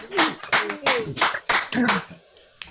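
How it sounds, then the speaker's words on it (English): A small audience claps at a show, a handful of sharp, uneven hand claps close by with murmuring voices among them, thinning out toward the end. "please another round of applause for the very crazy Leslie Harmon"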